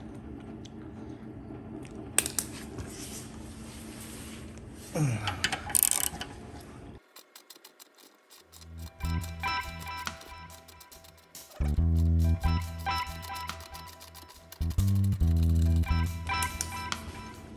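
A screw is driven down with a 5mm tool while fitting a Sport Chief Tidy Tail, giving close mechanical ratcheting and whirring bursts with rattles and squeaky handling noises in between.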